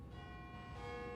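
Bells chime on the hour in the SimCity city-building game, a faint, steady ringing with sustained tones held over soft background noise.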